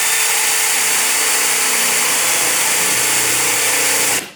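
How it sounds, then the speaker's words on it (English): A power drill bores a hole through wood with a spade bit, a steady loud whine with grinding texture running continuously for about four seconds before stopping abruptly at the end. "We'll try out our spade bit or paddle."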